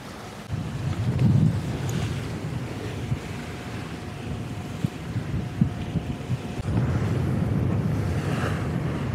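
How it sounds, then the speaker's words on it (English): Wind buffeting the microphone and waves rushing past the hull of a Dufour 560 sailing upwind off Croatia under full, somewhat stretched sails in strong wind, a continuous surging roar with low gusty swells. "Finally, some proper sailing, upwind, 50 knots of wind, full speed, full sails."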